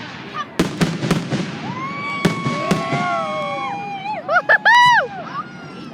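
Fireworks going off in rapid succession: sharp bangs, whistling rockets rising and squealing, then a tight cluster of crackling pops near the end, with a crowd chattering and exclaiming around them.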